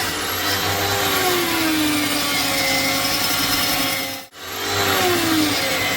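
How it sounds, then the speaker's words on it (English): An electric power file grinds a bevel onto an axe edge with a loud, steady whining drone, cutting out briefly and starting up again near the end. "Let the power file do all the work."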